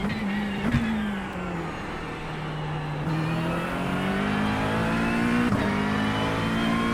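Race car engine held at full throttle on a simulated Bathurst lap, a loud, close, sustained drone whose pitch climbs steadily with a few sharp gear-change breaks.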